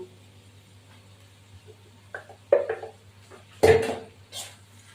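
A spoon stirs ghee and chicken in a cooking pan, giving a few scattered scrapes and clinks over a quiet, steady background hum, with one louder clatter near the end.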